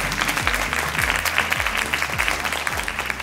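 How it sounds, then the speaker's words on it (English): Applause from an audience at a beauty industry panel event, a moderate clatter of clapping layered over a repeating low electronic thump of background music. "Let's give a huge round of applause for this incredible show working."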